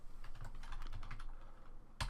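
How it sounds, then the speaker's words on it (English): Rapid clicking keystrokes on a computer keyboard, a close, quiet run of light taps ending in a firmer key press. "you can see we're going to start typing"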